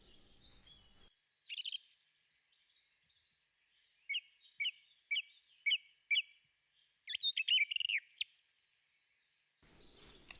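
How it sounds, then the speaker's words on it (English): A middle spotted woodpecker calls in a forest, giving a series of short, sharp, high notes spaced a second or so apart, then a quick burst of rapid calls, fairly faint against a quiet background. "there is another woodpecker, smaller, a red head. It's a middle-spotted woodpecker."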